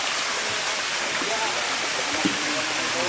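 A mountain stream used as a bathing spot rushes in a steady, close, continuous wash of water, with faint voices in the background.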